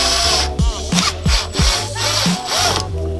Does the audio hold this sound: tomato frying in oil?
no